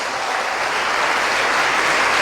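A church congregation claps together in a dense, steady wash of applause that fills the room and stays loud and even throughout, with no voices rising above it.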